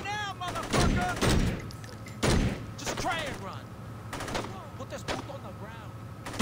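Gunfire rings out in the video game Saints Row, with bursts of loud shots and rapid volleys over game sounds while a person talks between the bursts.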